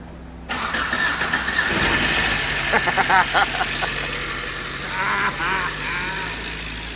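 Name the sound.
Suzuki Samurai with swapped 2.0L engine starting and idling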